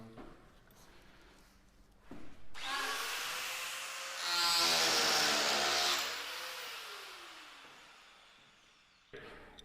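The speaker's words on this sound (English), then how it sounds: "the power chisel is doing all the work for us" A power chisel carves into wood at a live woodworking show, giving a steady buzzing, rasping cut that grows loud in the middle of the run and then fades.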